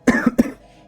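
A person coughs three quick times, close and loud, with a brief throat-clearing rasp trailing off into quiet room tone.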